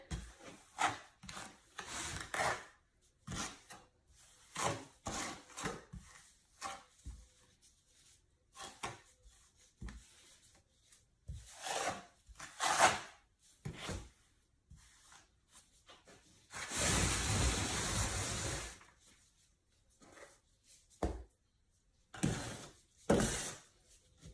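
A trowel spreads concrete across a DIY photo backdrop with short, close scraping and rubbing strokes in irregular bursts, including one longer sustained scrape partway through and quiet pauses between.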